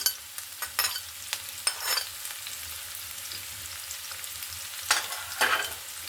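Chopped onion and green chilies frying in oil, later cooked with radish and fish, give a soft steady sizzle broken by several bursts of louder crackle as the pan is stirred.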